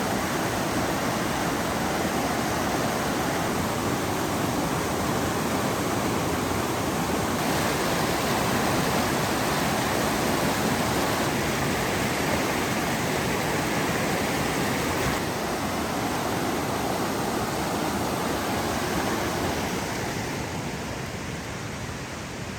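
The Zigzag River flows past its north banks at Tollgate Campground, a steady, close, broadband rush of moving water that runs unbroken, with no voices, and eases off slightly near the end.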